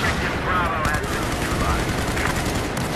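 Rapid gunfire in Battlefield 4 on Operation Locker in Rush mode, a dense, loud, continuous barrage of automatic shots with game effects layered over it.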